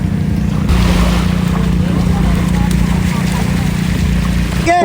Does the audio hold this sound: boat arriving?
yes